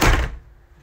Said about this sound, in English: hang on a minute, knock at door.